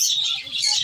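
Budgerigars and parakeets chirp at a bird market in a dense, steady chatter of high twittering calls, close and continuous for a brief moment with no talk.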